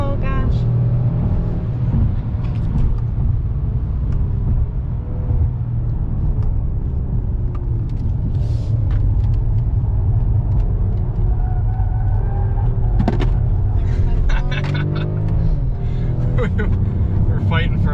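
A 2021 Mercedes-Benz E450 in Sport Plus mode accelerates hard through a turn, its engine rumbling loud and continuous from the cabin, with road noise and people talking over it throughout.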